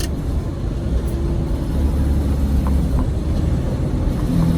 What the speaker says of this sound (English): I'm going to show you how engine brake works. It pretty much slows you down.